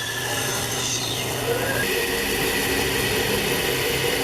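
A bandsaw cuts a shape out of wood, giving a steady, loud whirring rasp close up that runs continuously without pause.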